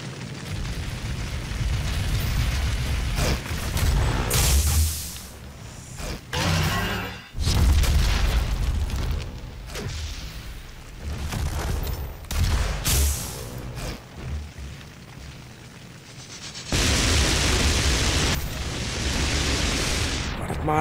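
Loud booming explosions and blasts of gunfire from the video game DOOM, Mission 11, repeated bursts with sharp impacts and rumbling tails, some long sustained roaring blasts.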